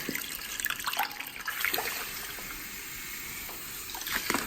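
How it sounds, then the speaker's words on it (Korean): Water runs and splashes irregularly close by during a hair rinse at a head spa, with uneven gushes and trickles as it pours and is disturbed. "귀에다 물이 닿으면 물소리가 다시 편안하게 들리거든요"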